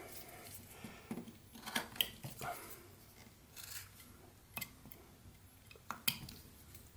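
A knife makes scooping cuts in wood while whittling a small evergreen tree, producing quiet, irregular scraping clicks and short shaves close up.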